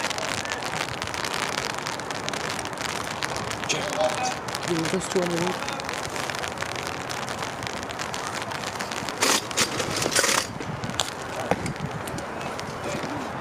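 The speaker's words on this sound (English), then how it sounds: "Rain coming in a little harder now." Steady rain falls on an outdoor high school baseball field during a home game between ST Mary and Pompton Lakes, a continuous broadband patter with scattered crackles, while people talk nearby throughout.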